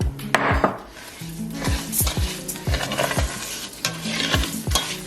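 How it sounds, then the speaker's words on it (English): Two cups of rice hit hot oil for Mexican rice and fry with a crackling sizzle, while a spoon scrapes and clacks against the pan in a quick, repeated stirring rhythm, close up and without speech. "Now that the oil is hot enough, we're gonna add the 2 cups of rice."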